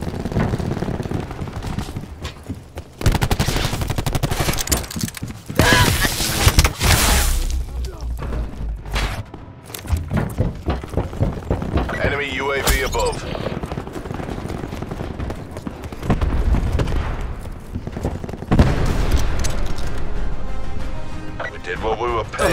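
Cluster grenade explosions in the Call of Duty Black Ops 4 multiplayer game, repeated heavy blasts and rattling gunfire in irregular bursts, with a voice speaking throughout.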